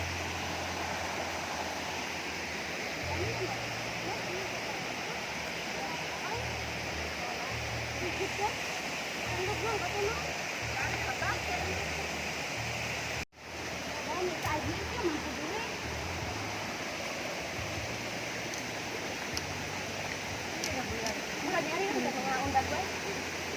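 A river stream where girls go bathing, heard as a steady, full rushing of flowing water that continues throughout, with some splashing and voices faintly mixed in beneath the flow.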